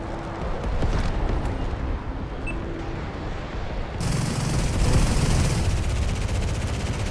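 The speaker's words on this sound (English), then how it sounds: "Open up my cannons on him." Rapid bursts of F-106 Delta Dart cannon fire in the Metal Storm flight game, crackling gunfire over a constant engine-like drone, with a louder, denser wash of noise kicking in partway through.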